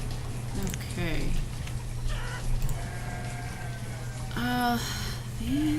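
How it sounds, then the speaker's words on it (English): Chickens cluck and squawk in scattered bursts in the farming village of the game Banished, over a steady low hum of game ambience. "Here's some more chickens that got split from the chicken coop to the west."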